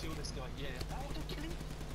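Gunfire in the video game Hardware: Rivals, a continuous run of muffled shots heard under steady game noise and talk.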